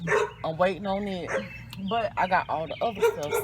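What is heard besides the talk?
neighbour's dog barking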